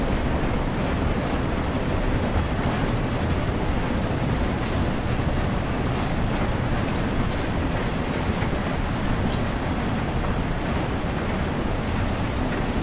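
Steam locomotive running in Train Sim World, a loud, steady, dense rumble with continuous chuffing and rail noise that holds unchanged throughout, with no horn or whistle.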